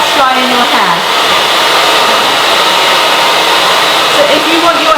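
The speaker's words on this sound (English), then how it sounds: "Next step is no nozzle, just blast drying your hair." Hair dryer running without its nozzle, blast-drying hair, gives a loud, constant close-up roar with a slight wavering whine for the full five seconds, alone with no speech.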